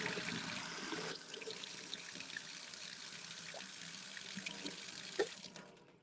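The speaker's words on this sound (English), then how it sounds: "I have to rinse my mouth." A tap runs steadily into a sink while a mouth is rinsed, a soft continuous water rush that thins after the first second, with a few faint splashes and a spit-like burst near the end, fairly quiet.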